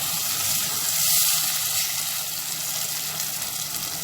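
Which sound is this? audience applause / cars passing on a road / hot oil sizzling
hot oil sizzling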